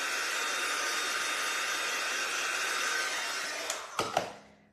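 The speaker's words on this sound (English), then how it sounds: "I'm going to go ahead and hit it with the dryer." Hair dryer blowing steadily on freshly painted orange color on a craft cutout, a loud continuous close whoosh that runs for several seconds before it clicks off and winds down.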